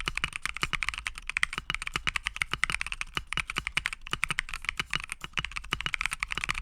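Rapid, steady keystrokes clack on a Neo60 Core custom mechanical keyboard, close and crisp, with a continuous rhythm and no talking.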